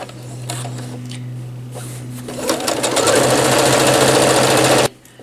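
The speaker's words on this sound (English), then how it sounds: "So I'm resetting my needle to a zero and we're just gonna straight stitch this line" A sewing machine straight-stitches a zipper seam on a wet/dry bag with a regular foot, first running lightly and then speeding into a loud, steady, fast mechanical whir before stopping abruptly near the end.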